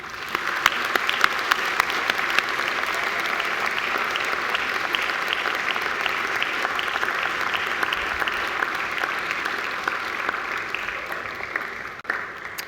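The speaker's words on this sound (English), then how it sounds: "And now please give them a very big round of applause" A graduation ceremony audience at Macquarie University gives sustained, dense applause lasting well over ten seconds, steady and full before tapering slightly near the end.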